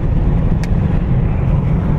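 Steady, loud rumble of a car driving with a window rolled down, road and wind noise filling the cabin continuously without a break and with no talking.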